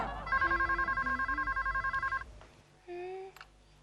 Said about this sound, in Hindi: अरे मोबाइल फोन।